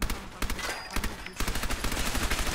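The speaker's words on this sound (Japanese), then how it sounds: "レーザー光線出てくるタレット" A laser turret fires in Fallout 4, rapid repeated zapping shots in a continuous rattling stream that pauses briefly before resuming louder and faster.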